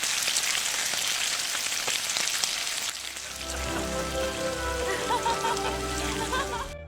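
A frying pan sizzles to imitate falling rain for a Foley effect, giving a steady dense crackling hiss that changes texture about halfway through and continues without pause.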